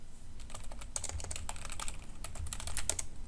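Rapid typing on a computer keyboard, a steady run of close, crisp key clicks over a low background hum, with no talking.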